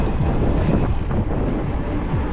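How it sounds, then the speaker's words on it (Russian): Wind buffets a microphone while driving a Sochi route between Adler and Sirius in January, a loud, rough rumbling gust noise filling the clip with no speech. "Ветер, падла."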